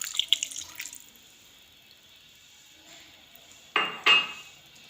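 Half a cup of water is poured into a pan of jaggery, a few faint clinks at first, then two short splashing bursts near the end.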